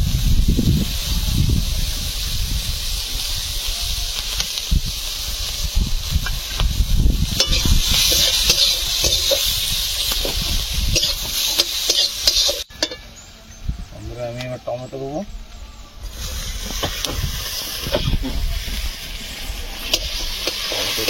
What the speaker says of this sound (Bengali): পেঁয়াজটা ভেজে নিয়ে নেবে, এর সাথে কাঁচা লঙ্কাটা দিয়ে দেবো।